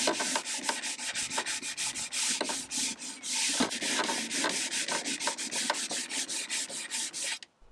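Hand sanding on the wood of an Art Deco chest of drawers: steady back-and-forth rubbing strokes, close and fairly loud, repeating in a quick, even rhythm until they stop abruptly at the end.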